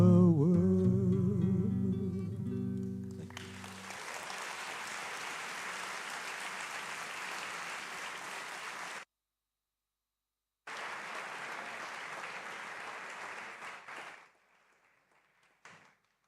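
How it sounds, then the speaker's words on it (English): An audience breaks into sustained applause after a powerful performance at a formal lecture event, a dense wash of clapping that follows fading music, cuts out briefly, resumes, then tapers away. "Let's give him a round of applause, ladies and gentlemen."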